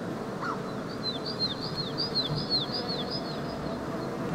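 A series of quick, high chirping bird calls from a video game repeats over about three seconds against a steady windy, rustling background.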